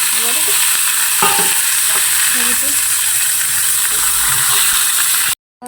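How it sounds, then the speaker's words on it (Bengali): Oil sizzles in a wok while food fries, with a constant bright hiss and a few clinks and scrapes of stirring, close and loud, ending abruptly. "আমি ফের কড়াই তেল দিয়েছি, আমি ভেজে নেব"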